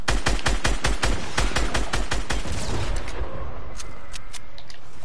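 Loud, close automatic gunfire from a shooter video game, a fast rhythmic burst of a dozen or so shots that ends abruptly around three seconds in, followed by a few scattered fainter shots and background rumble.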